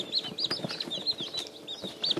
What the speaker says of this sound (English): This is 4 chickens that are 2 days old.